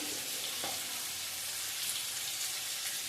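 Semolina frying in a pan gives a steady, close, bright sizzling hiss with a faint stirring scrape, with no talking.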